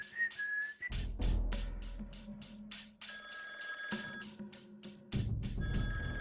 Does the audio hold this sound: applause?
no